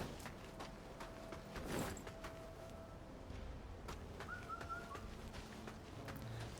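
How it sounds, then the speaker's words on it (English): A bird in Wuchang: Fallen Feathers gives a faint, brief call among quiet ambient game sounds and scattered soft clicks and thumps. "I hear you, bird."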